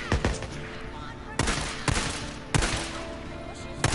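Gunfire rings out in Days Gone, several sharp, loud shots spaced irregularly with quick bursts between them, each followed by a short decaying tail over background game noise.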